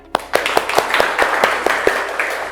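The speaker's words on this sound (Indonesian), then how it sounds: "Beri tepuk tangan ya." Audience applause at a university teaching certification session: a few people clapping in a loose, fairly steady rhythm, close and clear, with no talking.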